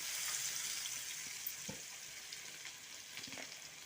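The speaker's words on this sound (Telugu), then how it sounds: "ముందుగా దంచి పెట్టుకున్న ఎల్లిపాయ పేస్ట్ వేయాలి." Garlic paste fries in a pan for an Indian amla (gooseberry) pickle, giving a soft, steady sizzle with faint stirring scrapes and no talking.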